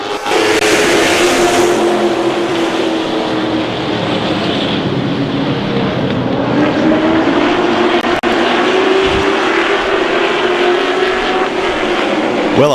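Field of stock race cars taking the green flag at East Carolina Motor Speedway, a dense loud roar of engines climbing in pitch as the pack accelerates past together, without talk.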